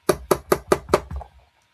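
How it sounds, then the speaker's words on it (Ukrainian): Five evenly spaced knocks on a door at night, sharp and close, followed by a softer trailing thump, with silence after. "І тут до них у двері Хтось постукав."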